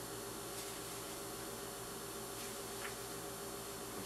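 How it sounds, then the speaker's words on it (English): An electric fan runs in a room in wintertime, giving a faint, steady, even whoosh of airy noise that holds unchanged throughout. "I'm sorry about the fan, but it is wintertime."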